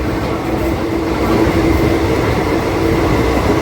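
A diesel DEMU train running between Kurnool and Guntakal gives a loud, steady rumbling roar of wheels and engine from on board, continuous with no talking.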